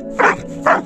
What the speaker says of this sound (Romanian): Câinele ne poluează pe fundal.